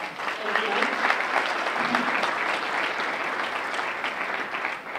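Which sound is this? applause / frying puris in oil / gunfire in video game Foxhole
applause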